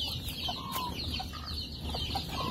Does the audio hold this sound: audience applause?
no